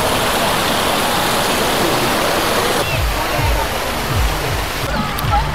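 Water from the Kaveri river is released through a channel, rushing loud and close as steady broadband roar; a voice talks over it in the second half.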